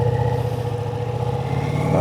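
A V4 motorcycle engine, either a Ducati XDiavel V4 or a QJMotor SRV 600 V4, drones loudly and steadily while being ridden, with a constant hum and slight clatter at an even pitch.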